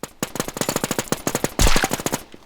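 Machine-gun fire in the zombie survival game NewZ: a fast, steady string of loud, close shots running for over two seconds, with a brief heavier burst near the end.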